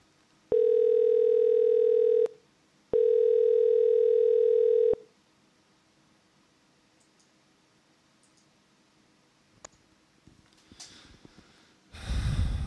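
Telephone dial tone after a caller hangs up on a call-in show: two steady, loud tone bursts of about two seconds each separated by a short gap, followed by near silence, faint clicks and a breathy noise at the end.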